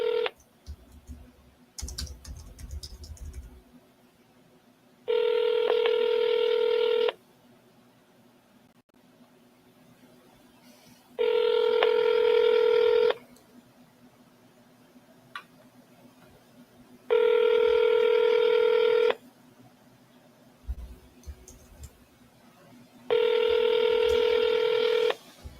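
Tones from a phone placing a cold call play in four evenly spaced bursts, each lasting about two seconds. Quiet gaps separate them, with a faint bit of keyboard clatter near the start.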